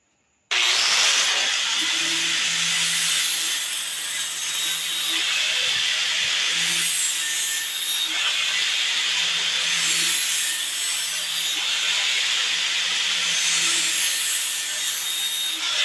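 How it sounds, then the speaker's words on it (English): The tip of a short katana blade is ground. After a brief quiet start, a steady, loud, abrasive grinding hiss runs unbroken to the end with slight rhythmic swells. "now we grind in the tip"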